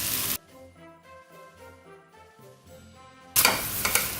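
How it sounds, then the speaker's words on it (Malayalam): Cashew and grated coconut paste stirred into chicken kurma in a pan: brief scraping, sizzling bursts at the start and end, with steady music filling the quiet stretch between. "അതും കൂടി ഇതിലേക്ക് മിക്സ് ചെയ്യാം"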